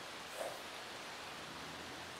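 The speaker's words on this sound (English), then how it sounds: "And it is definitely raining" Steady rainfall in The Sims 3, a soft even wash of broadband noise that holds at a constant faint level throughout, with no voices over it.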